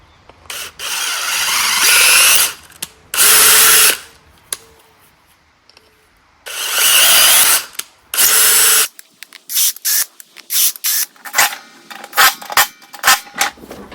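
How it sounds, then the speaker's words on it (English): Short whirring bursts of a power tool drive an 8mm tap into the unthreaded spindle of a John Deere D170 lawn tractor, loud and close, separated by pauses and followed by quick clicking and clattering. "The spindles here are not threaded, so I have to run an 8mm tap in here."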